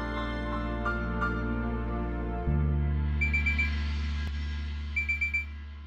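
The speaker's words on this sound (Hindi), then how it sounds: "ये अलार्म क्यों?" An alarm clock rings in a tense indoor scene from a Hindi TV drama, steady repeating electronic tones with bursts of beeping pulses, sounding alone over a droning music-like background.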